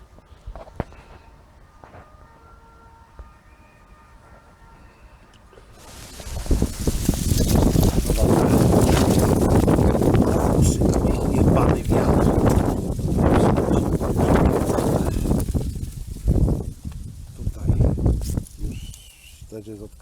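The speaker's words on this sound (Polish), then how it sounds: "Pieprzony wiatr ciągle coś zrzuca." Strong wind roars and gusts outdoors, rising suddenly after a quiet start and buffeting steadily for the rest of the clip.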